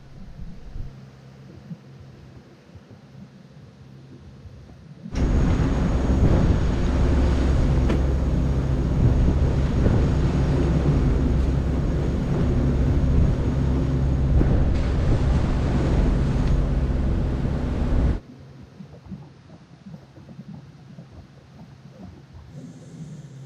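Storm wind and crashing waves batter a performance sailing catamaran under engine power, a loud, dense roar that swells suddenly and holds steady for about thirteen seconds before easing back to a lower rushing background.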